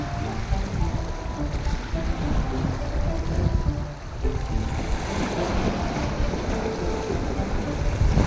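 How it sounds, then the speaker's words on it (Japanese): Strong seaside wind buffets the microphone during rock fishing for grouper, a constant loud roaring rumble with a broad hiss of surf behind it that dips only briefly. No speech. "風が強くなってきたな"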